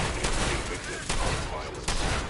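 Dense, loud gunfire bursts from the video game Fallout 4, several rapid volleys in an indoor control-room firefight, with voices shouting between shots.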